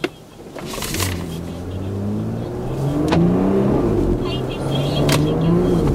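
Porsche Panamera 4E Hybrid in hybrid auto mode accelerating through a slalom course, a smooth rising engine and drivetrain whir building steadily from inside the cabin, with someone talking over it throughout.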